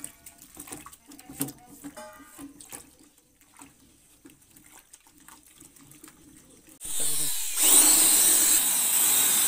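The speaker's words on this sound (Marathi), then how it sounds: "ड्रिल मशीन लावलेली आहे" Scattered clattering and handling noises, then an electric drill whirs up loudly and runs steadily, churning a homemade laundry soap mixture containing wheat flour.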